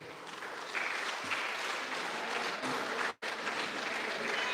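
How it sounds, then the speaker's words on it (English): Audience at a Cape Town debate on Gaza applauding the panelists, a steady, dense wash of clapping from a full room that continues throughout with a brief cut near the end. "please give our panelists a round of applause"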